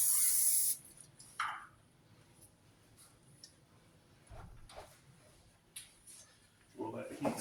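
A loud burst of hissing nonstick cooking spray coats a pan warming toward medium-high heat, then fades. Light clatter follows, and a second softer hiss comes near the end.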